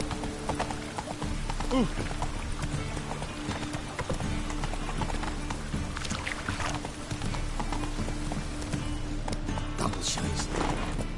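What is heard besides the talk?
Roach the horse galloping in video game The Witcher 3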